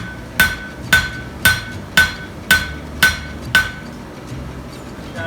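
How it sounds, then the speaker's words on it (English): Steady hammer blows ring out on a red-hot metal leaf being forged, seven sharp metallic strikes about half a second apart with a bright ringing tone, close and loud, then quiet. "Hammer that into it so you can give it a little form."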